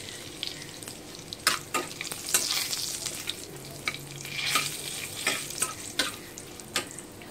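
Matar paneer spices frying in a pan, a steady close sizzle of oil with repeated sharp clicks and scrapes of a spoon stirring throughout, no voices.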